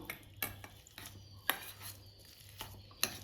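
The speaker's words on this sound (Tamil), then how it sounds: "நல்லா ஒரு உருளைக்கிழங்க வேக வச்சு எடுத்து வச்சுருக்கேன் இதை நல்லா இதால் மசிச்சு விட்ருவோம்" Boiled potatoes are mashed in a metal vessel for Tamil-style mini kara bonda batter, with a few sharp clinks and scrapes of the utensil against the pot, quiet and close, with soft steady mashing between them.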